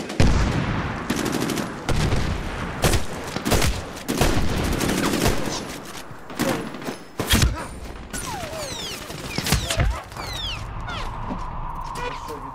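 Rapid bursts of AK-103 rifle and machine-gun fire in a multiplayer shooter match, loud and close, with scattered single shots, thuds and ricochet whistles, while a player talks intermittently.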